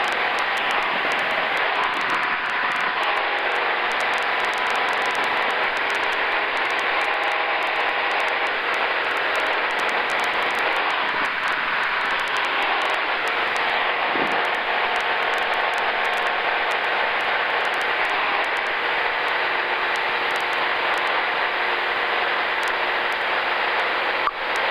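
Sonex light aircraft N604CM in flight on its first flight, engine running near 3280 RPM, a loud, steady, unbroken engine and airflow roar lasting the whole stretch with no talk.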